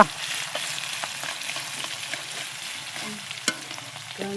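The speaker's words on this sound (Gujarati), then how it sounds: "બટેટા નાખી દીધું છે જીરું નાખી દઈશું આદુ લસણની પેસ્ટ ચમ ચમ ચમ બોલવા માંડ્યું છે હો" Potatoes fry in hot oil with cumin and ginger-garlic paste for bhungla batata, giving a steady close sizzle with occasional sharp clinks of stirring.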